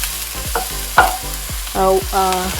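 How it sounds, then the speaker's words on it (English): Broccoli florets tossed with lightly golden onion in a hot pan sizzle steadily, with repeated spatula scrapes and stirring strokes at close range. "Tossed it and turned it and let it cook for a few minutes."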